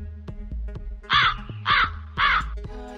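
A crow caws three times in a slow, evenly spaced series, loud and fairly close. Steady low hum and faint clicks run underneath.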